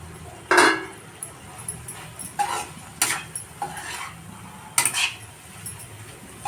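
Bitter gourd pieces tossed with garlic and chili powder in a pan, a spoon scraping and clinking against the metal in scattered strokes, fairly close, with quiet gaps between stirs.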